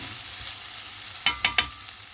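Chicken liver frying in a pan hisses in a loud, steady sizzle, and three quick stirring scrapes and clacks sound close together near the end.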